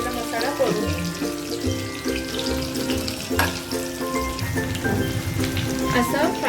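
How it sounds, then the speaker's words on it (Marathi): Stuffed karela, bitter gourd filled with masala, sizzles steadily in hot oil in a pan, a dense close crackle that continues throughout, with a faint tonal hum underneath. "असं फ्राय होऊन द्यायचं।"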